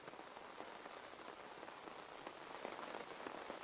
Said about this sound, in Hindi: बारिशें लगातार हो रही है